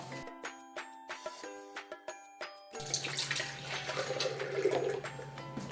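Milk is poured into a cup for a tropical smoothie, a soft close gurgling trickle that follows several faint clinks and taps of containers.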